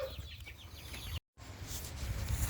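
Free-range chickens in an avocado orchard cluck and chatter softly in several short calls, over a steady low rumble of background noise and broken by a brief moment of total silence.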